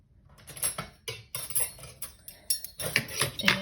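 Flour, sugar and salt mixed in a big bowl for pie crust, heard as close scraping, rattling and clinking of a utensil against the bowl in an uneven, continuous rhythm.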